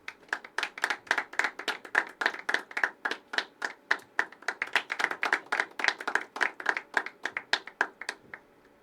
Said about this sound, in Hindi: तालियां उठाइए the last performer of this events, Tushar भाई।